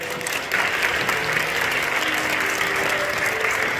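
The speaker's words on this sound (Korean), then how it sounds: "박수해 주시겠어요?" An audience applauds to welcome a sex education lecturer at a Korean seminar, a steady, full wash of clapping that swells after a half second and holds evenly.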